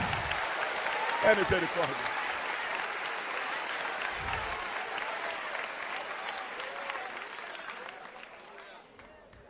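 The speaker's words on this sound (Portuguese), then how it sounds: "Sirva ele com aplausos" A church congregation breaks into sustained applause, a broad wash of clapping that slowly fades, with a voice speaking briefly over it near the start and middle.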